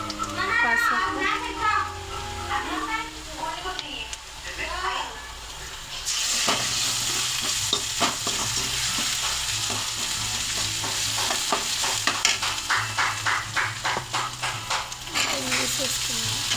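Beans stir-frying in a pan with ginger paste and turmeric, a hissing sizzle with repeated scraping stirs, under a voice talking at first and children's voices nearby.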